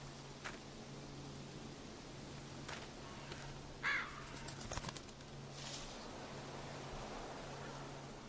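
Bird calling in The Walking Dead video game: a single short, distant caw-like call near the middle, over a steady low background hum.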